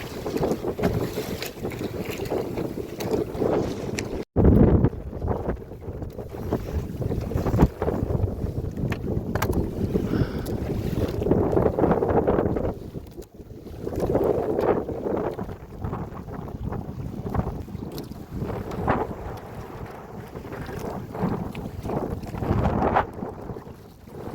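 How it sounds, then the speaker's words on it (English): Wind buffets the microphone steadily throughout while travelling by solar-powered canoe on open water, a continuous loud rushing with gusty swells and boat and water noise underneath. "So wind's picking up, going that way, but we push through it."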